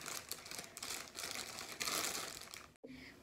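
Plastic packaging crinkles and crackles steadily up close as it is pulled and wrestled open, ending in a brief pause and a final rustle.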